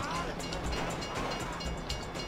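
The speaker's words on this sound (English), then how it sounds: "you'd know the train comes by right now" A train rumbles past in the GTA 5 video game, a steady loud rolling rush with faint rhythmic clacks underneath, continuous throughout and close by.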